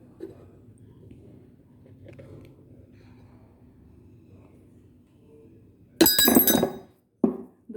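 A coin drops into a glass after a card is flicked away in a force demonstration: a bright clinking impact with ringing rattle, then a second short clink, after quiet room noise.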